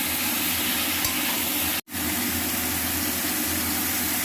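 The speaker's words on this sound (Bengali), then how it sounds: "তো এইগুলোকে এখন একটু ভালো করে কষাতে হবে" Ridge gourd and tomato for a vegetarian curry sauté in a pan with a steady close sizzle and stirring, broken by one momentary cutoff partway through.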